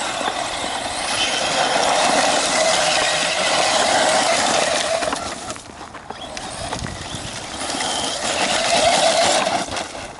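Traxxas Slash 4x4 RC car on a 3S LiPo driving at light throttle with 70-weight shock oil, a continuous buzzing electric motor whine with rolling tire noise that swells and dips as it moves, moderately loud and without talk.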